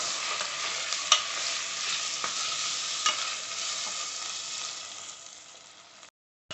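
Sliced tomatoes stirred and sizzling in a hot pan for chicken biryani, a continuous bright fry hiss with occasional spoon scrapes, fairly close, with no talk, ending in a sudden cut.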